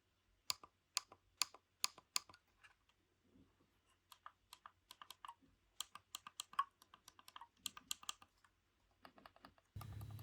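Crisp Logitech MX Anywhere 3S mouse button clicks tap repeatedly in quick bursts, mixed with softer ratcheting ticks of its scroll wheel, close and quiet.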